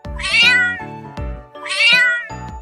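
A cat meows twice, clear and close, each call a drawn-out rising-then-falling cry separated by a short pause, with nothing else around it.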